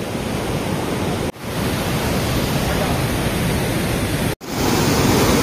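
River near Sugga Bandh waterfall, its water running red and under strong pressure, roars in a dense, continuous rush, loud and close with two brief dropouts.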